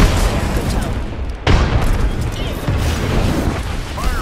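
A frag grenade goes off in the battle-royale shooter Apex Legends, one sharp booming blast partway through amid continuous loud gunfire and rumbling combat noise, with voices mixed in.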